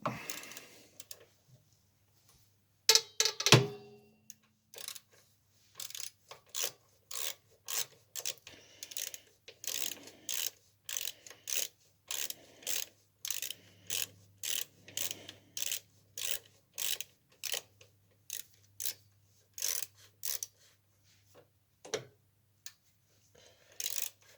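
A 12 mm screw is being removed on a Royal Enfield 350 Classic motorcycle during gear selector replacement, with a loud clunk early on followed by a long, regular run of close ratcheting clicks in quick bursts, with no talk.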